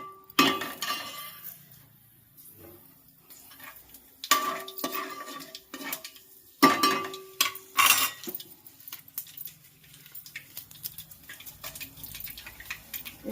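Fenugreek seeds are fried and stirred in a pan as a spoon scrapes and clinks against the metal in irregular bursts, close by, with faint sizzling between strokes and no talking.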